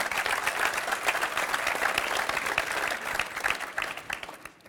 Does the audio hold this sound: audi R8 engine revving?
no